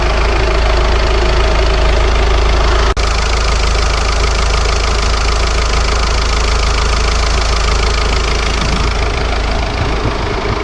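A Volkswagen Golf V GTD's BMN diesel engine starts and settles into a loud, steady idle with a clattery, knocking diesel tone, close up and without voices.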